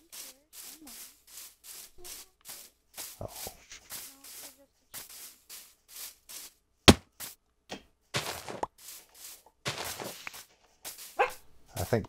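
Bob the dog barks in a run of short, sharp, separate yelps, some close and loud, spaced at uneven intervals with brief quiet gaps between them.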